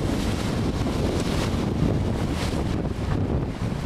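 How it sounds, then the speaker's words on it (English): Loud, continuous roar of large ocean waves and gusting wind at sea, a dense unbroken rush with heavy wind buffeting on the microphone and no voices. "We got a big set of waves coming in here from the north."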